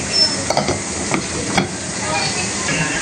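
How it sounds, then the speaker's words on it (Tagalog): Fish frying in a pan with mushrooms, a steady close sizzle and hiss with a few stirring scrapes and clinks over it, no talk. "Ito naman po may niluluto po si Tito Ninyong pritong isda na nilagyan niya po ng kabote"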